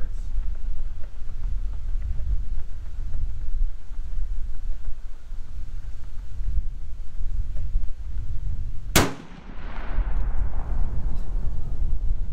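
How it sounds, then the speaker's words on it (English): A Marlin lever-action .30-30 rifle fires once at a steel plate 100 yards downrange, a single sharp loud crack about three quarters through, trailing into a brief rumbling echo over steady outdoor wind noise. "this is Roseanne's first time shooting the Marlin lever action 30-30. At that steel plate at 100 yards"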